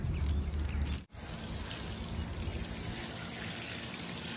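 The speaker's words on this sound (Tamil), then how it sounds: "தண்ணி நல்லா தளர ஊத்து." Water is poured over newly sown broad bean seeds in soil, a steady soft trickle and splash that cuts out briefly near the start, then runs on continuously with no talking.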